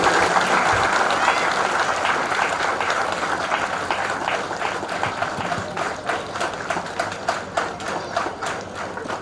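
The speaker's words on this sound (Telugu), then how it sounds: "ఒకసారి అందరూ కలిసి గట్టిగా చప్పట్లు కొడితే మరింత ఉత్సాహంగా చేస్తారు" A crowd applauds loudly and steadily at a Telangana police sports event, dense clapping filling the space before thinning into more distinct, separate claps toward the end.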